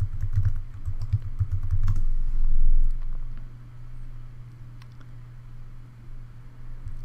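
Fingers typing a web address on a computer keyboard, a quick run of close, soft key clicks over a steady low hum, fading to quieter sparse taps.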